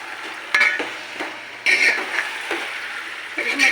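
Chicken frying in a pan with ginger garlic paste for chicken pulao, soft sizzling broken by scraping stirs of a spoon against the pan, close and moderately loud.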